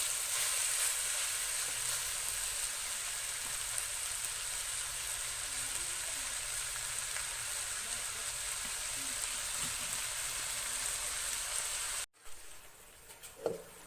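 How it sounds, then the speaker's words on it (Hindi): Chicken and bitter gourd frying on a low flame, a steady soft sizzle with faint crackles that runs evenly for most of the time, then stops abruptly near the end with a few light clinks. "अब इनको हल्की आंच पे भून लेंगे।"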